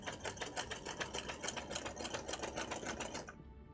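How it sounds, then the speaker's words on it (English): A sewing machine runs fast and steady, stitching fabric for a Honkai Star Rail Welt cosplay, its needle clattering in an even rapid rhythm before stopping abruptly near the end, with soft background music. "So you can hear the sewing machine."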